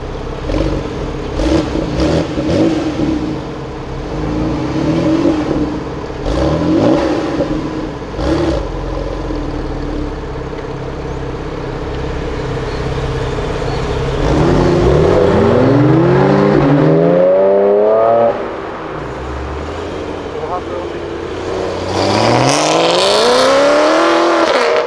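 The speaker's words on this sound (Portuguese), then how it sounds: "Nossa, mas essa Porsche é maravilhosa, olha isso" A Porsche Turbo engine revs hard and accelerates, rising pitch sweeps climbing through gear changes, loud and close with road noise, easing off briefly before another strong pull near the end.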